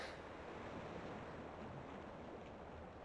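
Steady wash of water waves in a video game, a broad continuous surf-like roar with no clear breaks, heard alone without talk.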